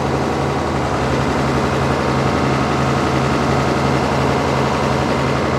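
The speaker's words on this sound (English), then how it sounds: "I was surprised that the tractor lifted this shack pretty easily" A tractor engine runs steadily while lifting a hunting shack, a loud continuous low drone with a constant hum and no pauses, heard alone.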